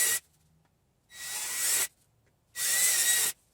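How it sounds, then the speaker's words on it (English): Power drill boring quarter-inch holes into a DIY quail feeder, two loud bursts of whirring drilling, each lasting under a second, separated by brief quiet pauses. "Use the same quarter inch drill bit for these holes"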